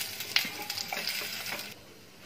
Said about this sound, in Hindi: हम इसको फ्राई करेंगे, थोड़ा सा इसको रेड कलर आने देंगे केले को